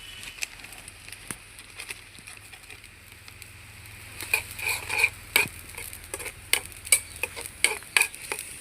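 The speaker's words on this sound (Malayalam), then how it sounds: "നമ്മളെ വറവ് ഇപ്പം നല്ലോണം തിളക്കുന്നുണ്ട് നല്ലോണം തീ കത്തുന്നുണ്ട്" Country-style green beans stir-frying in a pan over a strong flame, with a spoon stirring and scraping. Scattered clicks and ticks build into a denser run of crackling, sizzling pops near the end over a low steady hum, with no talking.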